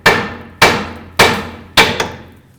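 A hammer strikes a tie rod on a 2009-2010 Dodge Ram 1500, knocking it loose: four loud, sharp metallic blows roughly evenly spaced, each ringing out and decaying, with a smaller tap after the last.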